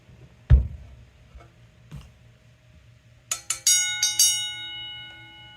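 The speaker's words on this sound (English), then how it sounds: "So this bell is a vibrating bell." An IBM 10-inch vibrating bell, old-school fire alarm hardware, gives a few dull knocks and then short metallic ringing bursts with bright sustained overtones in a quiet room, the last ones louder and ringing out.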